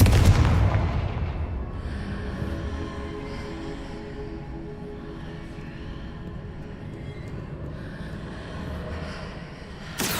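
The Confringo blasting spell in Hogwarts Legacy goes off as a loud explosive boom at the start, then a long rumbling decay with another burst right at the end.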